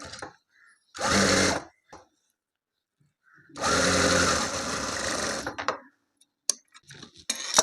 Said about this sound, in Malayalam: ഈ മുകൾ ഭാഗം നമ്മൾ ആദ്യം ഒരു കാലിഞ്ചിൽ മടക്കി തയ്ക്കുക